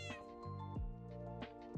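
Cats in Minecraft give a few quick meows in a row, short bending cries spaced closely together, near and clear with no speech.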